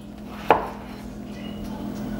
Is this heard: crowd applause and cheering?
no